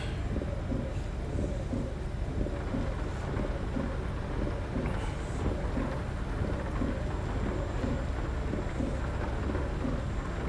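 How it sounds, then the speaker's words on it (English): Steady rain in the American Truck Simulator video game, a dense continuous hiss with a low rumbling bed and faint patter, even in level throughout with no talk. "It's fixing to start raining."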